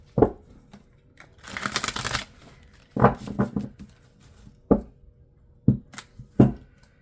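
Tarot cards being shuffled and handled in bursts: a long riffle-like rustle early on, then several short crisp snaps and slaps of cards, close up and fairly quiet, with no speech.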